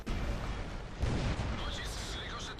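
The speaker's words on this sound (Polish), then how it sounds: "Strzał na szybkiego" A tank cannon fires in a tank battle video game featuring the T-44, giving one heavy booming blast that rises out of dense, rumbling battle noise.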